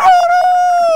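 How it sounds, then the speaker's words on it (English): A rooster crows once on a farm, a loud, close, drawn-out tonal call lasting about a second. "Rooster crows."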